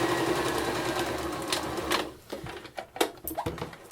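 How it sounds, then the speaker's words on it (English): A sewing machine stitching two pieces of quilt patchwork fabric, a steady close mechanical whir for two seconds that then stops, followed by clicks and handling noises. "Sew your two pieces of fabric together as you normally would."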